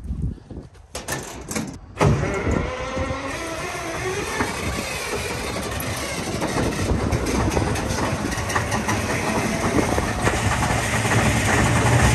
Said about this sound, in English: this is the generator that runs the mill